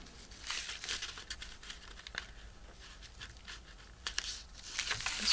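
Paper pieces cut and handled for a journal spread, soft crinkling and snipping with scattered crisp taps, close and fairly quiet.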